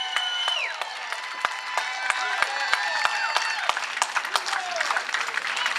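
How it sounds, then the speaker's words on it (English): A rally crowd at the Rally for Common Sense applauds the military with scattered sharp claps, mixed with whistles and sustained cheering tones rising and falling over the din at moderate volume. "Let's give them a round of applause."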